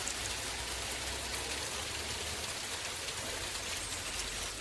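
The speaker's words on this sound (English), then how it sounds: "At the moment it's bucketing down out of the heavens." Heavy rain pours down steadily in a dense, even hiss of drops on surfaces, continuous and fairly close with no voices.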